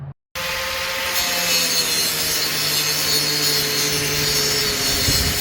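A cut into a coilover part for a Chevrolet HHR suspension install, a steady, loud continuous grinding-saw rasp running nearly five seconds after a brief silent gap at the start, with no talking.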